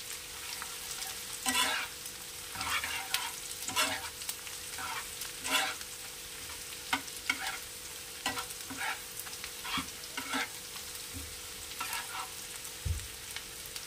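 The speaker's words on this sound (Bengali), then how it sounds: "এখানে পেঁয়াজ ভাজা হয়ে গেছে, আর বেশি লাল করে ভাজবো না" Onions frying in oil in a pan for a Bengali bhola fish jhal, a steady close sizzle with repeated scraping stir strokes at an uneven rhythm, heard alone without talk.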